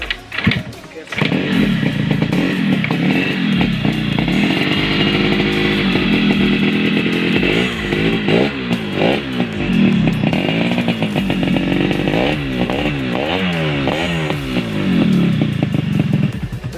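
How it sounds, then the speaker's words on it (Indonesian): An RX King motorcycle engine, modified back to factory standard, starts and runs close by, loud and steady, with repeated revving that rises and falls over the idle. "untuk suara mesinnya ini lebih halus dari yang tadi"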